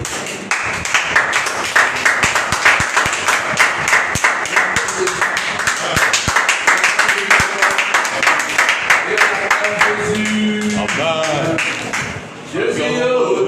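A church congregation claps and cheers loudly in praise, dense continuous applause with voices mixed in, before it tapers off and singing voices take over near the end.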